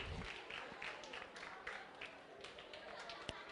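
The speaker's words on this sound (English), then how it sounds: "give yourselves a round of applause" Audience applause at a public health department gathering, a steady wash of clapping from a room of people, moderately faint, with a sharp single clap near the end.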